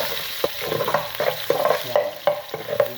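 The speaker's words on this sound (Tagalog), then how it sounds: "Gisa na tayo ng ginger." Ginger sautés in hot oil with a soft crackling sizzle, punctuated by regular scraping knocks of a spatula stirring the pan.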